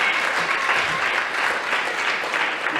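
An audience bursts into steady applause at a spiritual gathering, dense, continuous clapping from many hands filling the room without pause.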